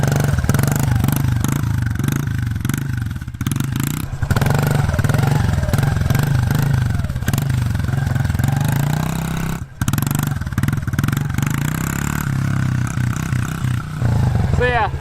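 A mini bike engine revs hard and rises and falls during a wheelie, a loud buzzy motor sound that dips briefly midway and carries on to the end.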